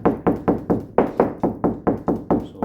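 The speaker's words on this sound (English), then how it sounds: "So if they knock, it'll sound the same." Knocking on a hollow interior door after a large hole has been patched, ten evenly spaced dull knocks in a steady rhythm, close and fairly loud, with no talk.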